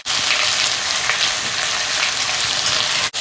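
Onions, shallots and curry leaves frying in oil in a pan, a loud, steady close-up sizzle with no talk, briefly cut off at the end.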